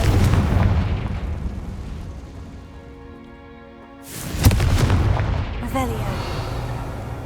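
A booming Confringo fire spell explosion in Hogwarts Legacy hits sharply after a quieter lull, its loud blast rolling into a sustained rumble, with a voice briefly heard afterward.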